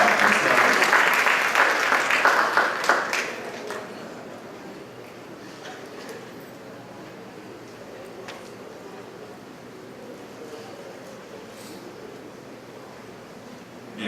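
Audience applause at an architecture and housing development event, a loud burst lasting about three seconds before it fades into quiet room murmur and rustling.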